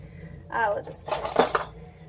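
Metal teaspoon measure clinking against kitchen dishes while measuring out a tiny amount of sodium alginate, a few light chinks and rattles over about a second, close by and fairly soft.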